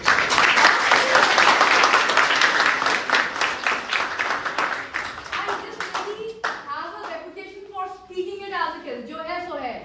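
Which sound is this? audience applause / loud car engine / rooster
audience applause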